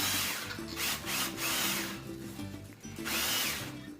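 A battery-powered drill bores holes while potting seedling starts, several short whirring bursts that rise and fall in pitch with brief pauses between them, close and clear with no talk.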